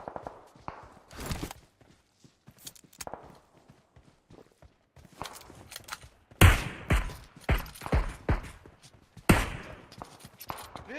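Scattered gunshots in the BGMI mobile battle royale game crack out as irregular sharp bursts, some near and loud, among quieter footsteps and game noises.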